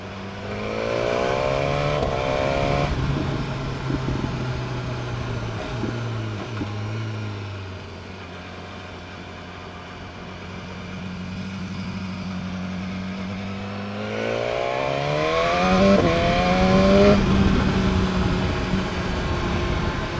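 A 2017 BMW S1000R motorcycle engine revving hard, climbing through several quick-shifter upshifts, easing off to a steady drone, then accelerating again through another run of rising gears, loud and close.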